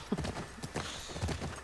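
Horses clip-clop in The Last of Us Part II, several close hoofbeats in an uneven walking rhythm, with faint game ambience and no talk over them.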